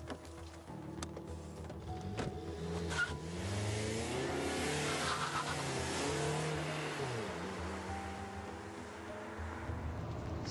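A video-game car engine revs and accelerates, its tone rising and shifting through gears at moderate volume with no talk over it.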